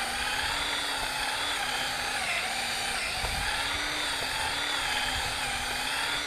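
Power drill whirring steadily while a bolt hole is widened for a double wooden gate, a continuous pitched motor whine with slight wavering in speed, close and loud throughout.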